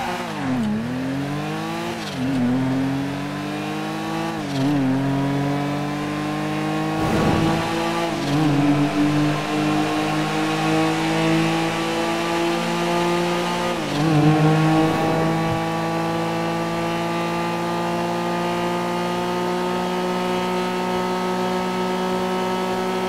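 Car engine in GTA V revving hard at high speed, a strong droning tone that climbs repeatedly through the gears with brief drops at each shift, sustained and loud for over twenty seconds with no talk.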